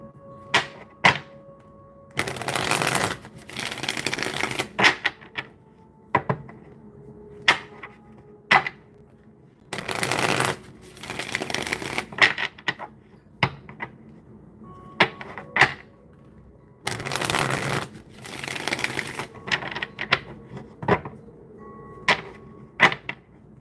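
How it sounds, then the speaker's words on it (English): Playing cards being shuffled in a deck, heard as repeated loud riffle bursts of a second or two, separated by sharp taps and knocks, close to the microphone, with no speech. "About to shuffle"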